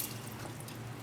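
Water running from a tap while a freshly caught red-eared sunfish or bluegill is rinsed during cleaning, a soft, steady, fairly faint splashing stream with no voices.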